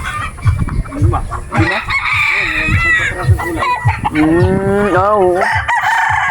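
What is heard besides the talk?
chickens clucking and rooster crowing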